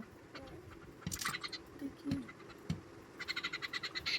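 Birds calling and chirping in short bursts, with scattered sharper tweets near the end over quiet outdoor background.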